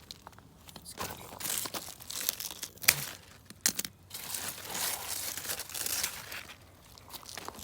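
A ripe, cracked cantaloupe is cut from its vine in a Las Vegas garden, giving close crinkling, tearing and crunching of leaves and stem in irregular bursts, with a couple of sharp snaps near the middle and no talk.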